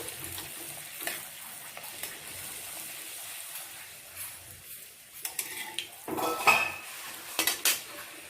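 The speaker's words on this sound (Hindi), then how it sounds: "अब इसी रिफाइंड में पूरी तल लेते हैं।" Puris deep-frying in refined oil, a soft bubbling sizzle near the pan with occasional metal utensil clinks and scrapes, growing busier and louder toward the end, no voices.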